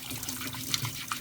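Hot water running from a tap while metal parts of a Stanley No. 4 1/2 hand plane are scrubbed clean, a short burst of splashing and trickling close by.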